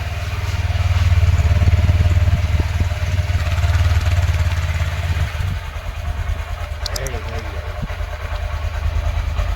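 A motorcycle engine is cold-started and left idling, giving a loud, steady low rumble that runs throughout and eases only slightly toward the end.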